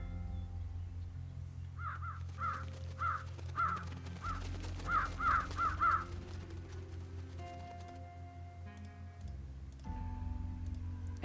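In the video game Trüberbrook, birds caw in two clusters of quick, repeated harsh calls at moderate distance, over a low ambient game drone with faint clicking.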